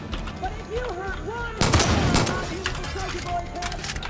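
Gunfire in the video game Far Cry 5, a dense burst of shots around the middle over game music and someone talking; quieter crackling continues behind the voice afterward.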